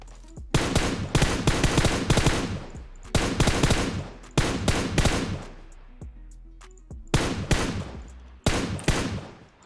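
Rapid gunfire from the PUBG Mobile video game, loud and close, arriving in several dense bursts with short pauses between them.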